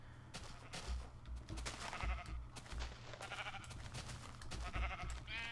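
Sheep bleating in the Minecraft video game, several short nasal bleats repeating through the clip over a steady low game hum, fairly loud and clear with no talking.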